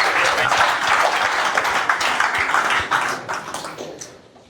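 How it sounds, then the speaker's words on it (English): A room full of guests at a club's end-of-season function breaks into dense, sustained applause for two players. The clapping holds steady and close, then thins and fades toward the end. "Huge round of applause for Dan Greeter and Keanu Rasmussen."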